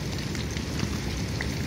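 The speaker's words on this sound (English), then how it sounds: "it's raining outside" Rain falls steadily outside a tent in the hills near the Serra da Estrela mountains in Portugal, a dense, even patter of drops with a few louder taps, continuous and close.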